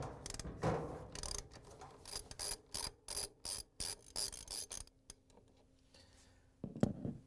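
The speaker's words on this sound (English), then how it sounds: "we're going to use a 13mm socket with an extension and a ratchet to take off the nut" A ratchet with a 13mm socket and extension is working a reverse-thread nut on an LG/Kenmore dryer blower wheel, giving a steady series of crisp clicking bursts in even strokes, close and fairly quiet, with no talking.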